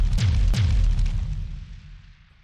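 Nuclear missiles detonating in Detroit: Become Human, heard as two loud, close booms in quick succession with deep rumbling that rolls on and slowly fades, no talking over it.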